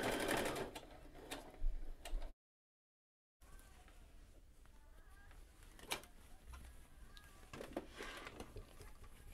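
A sewing machine fitted with a regular sewing foot stitches close to the teeth of an invisible zipper, running in steady mechanical bursts at close range, with a short gap in the middle and faint talk in the background.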